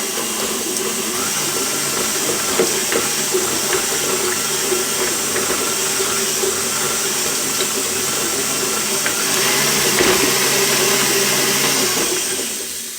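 Electric mixer creaming a large amount of butter for s'mores bars, a loud steady whirring drone that runs throughout and rises slightly near the end before cutting off.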